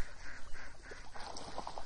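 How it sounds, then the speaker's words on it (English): A duck on a farm pond in Thailand gives brief, faint quacks and calls over a short stretch, with no voices present. "we've got one of the ducks on the pond here as well"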